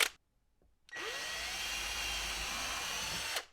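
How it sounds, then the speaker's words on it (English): A power drill with a 3/32 inch bit bores a hole in a wooden router rail frame, a loud steady whine starting after a short pause and running for about two and a half seconds before stopping. "Now I'll go through and I'm gonna drill out each side 3/8 in."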